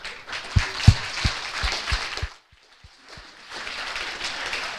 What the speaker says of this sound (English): So if everybody wants to join me in giving them a big applause.